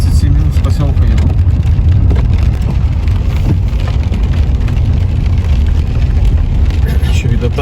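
A car drives on a thawing spring road in Komi, Russia, heading out of the village of Yasnog; steady loud road and tyre roar with wet, slushy hiss runs continuously, and someone talks over it.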